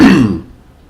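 A single short, rough throat clearing, close and fairly loud, fading quickly into silence.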